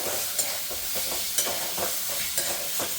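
Garlic, greens and poppy seeds fry with green chilli in a pan, a steady sizzle under regular scraping stirs about once a second, close and alone.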